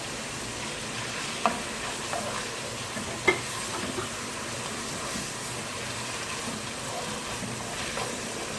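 Chicken fries in oil with ginger garlic paste, giving a steady, continuous hiss and crackle at close range, with a couple of faint clinks from stirring in a pot used for one-pot Chinese-style spaghetti.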